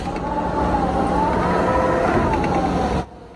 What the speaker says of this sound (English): Do you hear the wind howling there?